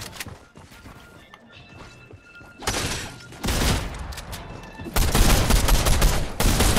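Fortnite Battle Royale gunshots crack in bursts, starting with scattered quieter shots, then growing louder into dense, harsh blasts of fire near the end.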